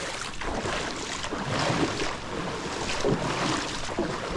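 A boat motor churns steadily through floodwater, its rough rushing noise continuous and fairly loud with no talking.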